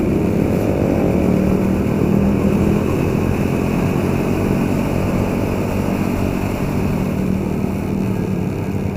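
A 2014 Honda CBR150 motorcycle hums steadily and loudly on a test ride, its engine drone mixed with wind rush, continuous and without talk.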